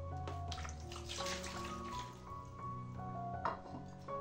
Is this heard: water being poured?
yes